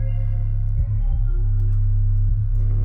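Several 808 bass notes overlap in FL Studio, a loud, thick, continuous sub-bass drone with a few brief pitch dips and bumps where new notes cut in, alone with no voices.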